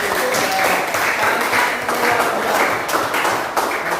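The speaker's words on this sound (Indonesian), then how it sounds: "tepuk tangan buat" Applause from a classroom of students during an economics lesson, a dense sustained patter of clapping hands filling the room, with some voices mixed in underneath.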